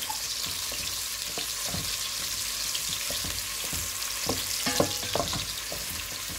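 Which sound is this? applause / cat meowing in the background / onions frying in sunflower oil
onions frying in sunflower oil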